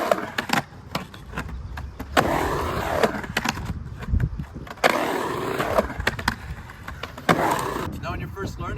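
A skateboard drops in and stalls on ramp coping, with rolling wheel rumble and a series of sharp clacks and thuds from the board hitting the coping, close up while a person talks over it.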